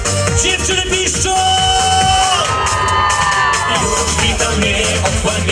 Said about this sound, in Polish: Uwaga, dziewczyny piszczą!